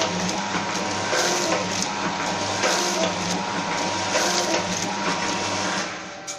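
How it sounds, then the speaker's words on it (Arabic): An automatic center-seal packaging machine, model 902, filling bags with grains and nuts gives off a steady, loud mechanical whir and clatter, with rhythmic clicks and faint pulses, running continuously and fading slightly at the end. "هنبدا نشغل المكنه، ننزل كيس او كيسين فاضيين، وبعد كده نشغل الصينيه بحيث ننزل المواد اللي جواها"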